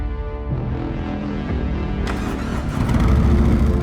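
A Harley-Davidson motorcycle with a Milwaukee-Eight engine cranks and fires up, then settles into a deep, rumbling idle that swells louder near the end, heard up close.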